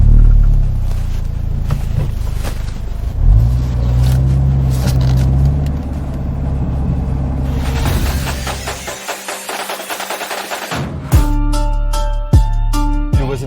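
A new Ford Focus ST drives on the road, its engine and tyre rumble heard from inside the cabin, steady and fairly loud, then dropping out briefly before sharp clicks and knocks.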